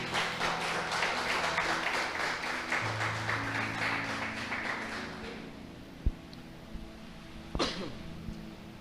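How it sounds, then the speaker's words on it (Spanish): A church congregation applauds during a sermon, with several seconds of clapping that fade into quiet, followed by a few scattered coughs and small noises in the room. "Alguien le da un aplauso al Señor."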